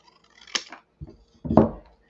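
Scissors cut paper for a journal in a few short, close snips with quiet gaps between them and no voices.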